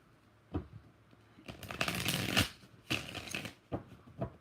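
A deck of tarot cards is shuffled close by: a single quick tap, then two longer bursts of dense riffling flutter, ending with a few soft taps; no talking.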